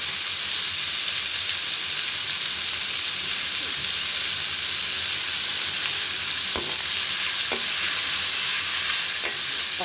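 Onion, tomato and green chili sauté in a pan with a loud, steady hiss and sizzle that holds throughout, broken by a few soft clicks; no voices are heard.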